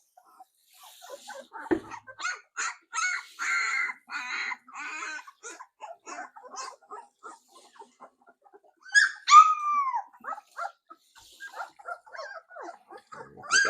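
Several Labrador retriever puppies whining and whimpering during their first bath, a string of high, wavering cries and short yelps close by, some longer rising whines, with no talking.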